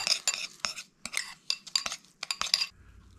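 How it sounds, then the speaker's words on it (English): A utensil stirs lime zest and lime juice into a chili lime sauce for lake trout, with a series of quick clinks and scrapes against a bowl in irregular bursts, close and fairly quiet. "Now I'm just gonna mix all that up."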